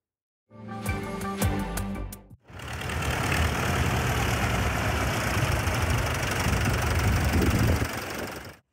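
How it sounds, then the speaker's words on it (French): A vintage collection tractor engine runs at a tractor festival in a village, a steady, rough rumble that starts after a few brief clanks and keeps going unbroken at close range. "Près de 90 tracteurs de collection étaient réunis dans le village du Cristal, dont certains étaient très anciens."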